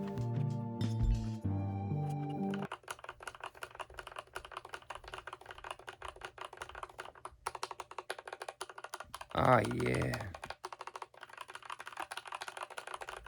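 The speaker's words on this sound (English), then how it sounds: "Here's the Gateron black switches." Mechanical keyboard fitted with Gateron black switches, typed on in steady rapid clacking keystrokes close up, with a few louder clinks and brief speech early on.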